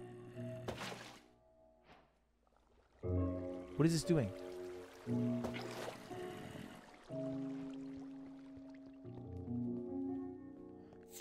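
Water placed from a bucket in Minecraft: soft squishy splashes and a steady trickling flow, fairly quiet, with a voice talking over it between blocky thuds.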